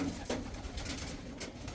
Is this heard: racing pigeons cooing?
yes